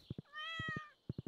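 A cat gives one clear, drawn-out meow, quiet and close, framed by soft rhythmic taps before and after it.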